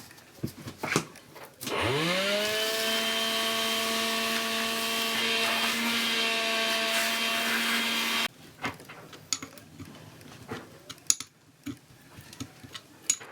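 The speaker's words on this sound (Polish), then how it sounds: "Już tam odkurzacza pstrykniesz." A vacuum cleaner switches on with a rising whine, then holds a loud, steady motorized drone for about six seconds before cutting off, with clunks and rattles of boat-project work around it.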